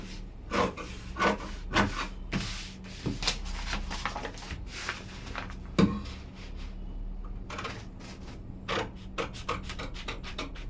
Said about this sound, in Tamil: இப்போ நம்ம ஃப்ரண்ட்டு வந்து மார்க் பண்ணிட்டோம் வெட்ட ஆரம்பிச்சிடலாம்